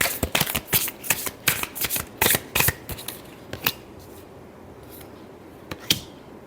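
Tarot cards riffle and snap in quick close bursts, then a pause and a few last soft shuffles, with no voices.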